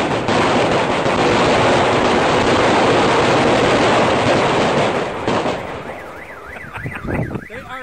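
A long string of firecrackers set off in a backyard celebration, a loud, dense crackling barrage of rapid pops that runs for about five seconds before tapering into scattered bangs, with a wavering car alarm sounding afterward.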